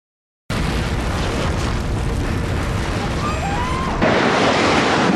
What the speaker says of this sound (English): We got an explosion inside. The building's exploding right now.